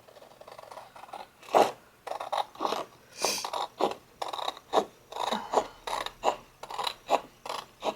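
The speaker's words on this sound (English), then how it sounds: "let's cut this strip down" Scissors cut a fabric border strip in a series of about a dozen close, crisp snips at a steady rhythm, each with a light metallic scrape, with no talk.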